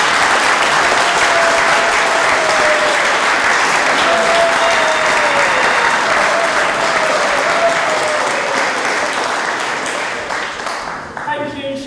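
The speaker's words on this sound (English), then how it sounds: "I think our ring bearers need a huge round of applause." A wedding congregation gives the ring bearers a long, loud round of applause, dense clapping with faint voices underneath, tapering off near the end.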